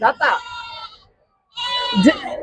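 Rams and goats bleat at a livestock market, with two close, loud calls separated by a brief silence, mixed with the crowd's background voices.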